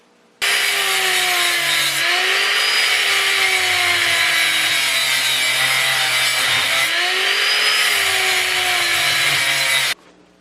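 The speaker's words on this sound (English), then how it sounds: "grind the small pieces away" A power tool grinds away small pieces of wood while shaping a homemade bar cham dao sword, a loud continuous whining rasp that wavers slightly in pitch, starting and stopping abruptly with no talk.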